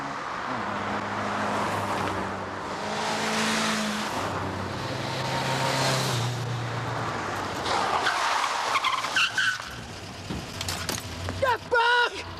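A car speeds and makes a sharp left turn on a suburban road at about 60 to 65 mph, its engine roaring and tires squealing loudly before the sound breaks into scattered bursts, with voices shouting near the end.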